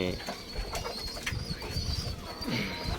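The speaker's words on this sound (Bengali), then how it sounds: "দেখতেই পাচ্ছেন আমার কবুতর খাঁচাগুলা।" Pet pigeons kept in cages in a breeding room coo and murmur continuously at close range, with rustling and light movement mixed in.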